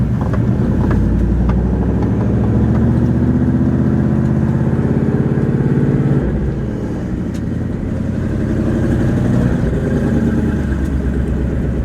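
A carbon fiber Classic Recreations GT500 engine runs loud and steady with a deep, throaty exhaust rumble, close by, dipping briefly midway before continuing strong.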